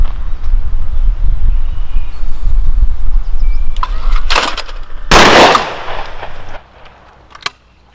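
A Browning Citori 725 High Rib Trap 12-gauge over-under shotgun fires on an outdoor range. Two loud, sharp blasts ring out a second apart, each with a short echoing tail, over a low background rumble, followed by a faint click.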